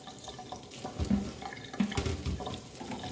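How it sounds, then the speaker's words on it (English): Cold tap water runs steadily into a kitchen sink as fresh seeds are rinsed under it, with a continuous close splashing that swells and surges a couple of times. "So we're just going to rinse them really good, cold water."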